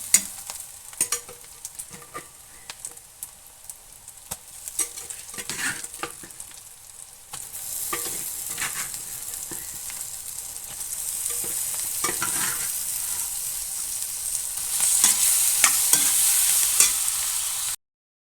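Cooked beef and masala stirred in a frying pan for beef fry, with scraping spoon strokes over a soft sizzle that grows louder and hissier toward the end.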